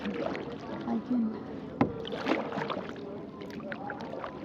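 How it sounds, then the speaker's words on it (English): Kayak paddling on Naukuchiatal lake, with soft water splashes and occasional paddle strokes close by under a voice talking throughout. "I am kayaking"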